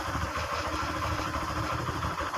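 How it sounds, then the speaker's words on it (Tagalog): A motorcycle engine idling at a raised idle after a stuck valve, a steady mid-pitched throbbing hum with a faint mechanical clatter, heard close and alone without any voices. "So tumaas na yung kanyang idle kasi nga kanina ay tukod siya."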